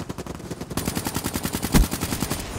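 Steady rapid bursts of machine gun fire in Call of Duty, a regular rattling rhythm running the whole way with one heavier blast partway through.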